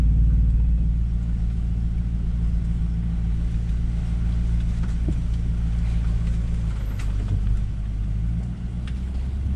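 A Nissan Patrol Y62 towing an offroad caravan creeps downhill in first low range with the diff lock on, near 2000 RPM. Its engine gives a steady, loud, close, low drone that lasts throughout.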